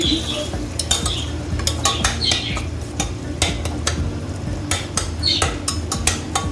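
A spoon stirs a dish in a pan at home, giving repeated metallic clinks and scrapes over a steady background rumble from the cooking.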